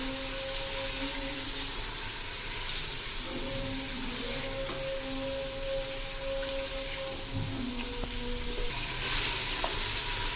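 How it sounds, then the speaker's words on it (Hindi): Beef and onions frying together in a karahi for beef karahi: a loud, continuous sizzle with a steady crackle that runs unbroken for the whole stretch, close to the listener. "5 मिनट हमने इसको भूनना है गोश्त को प्याज़ों के साथ।"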